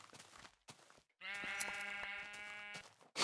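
A sheep in Minecraft Beta 1.7.3 gives one clear, close, sustained bleat with a wavering tone, set between quiet game sounds.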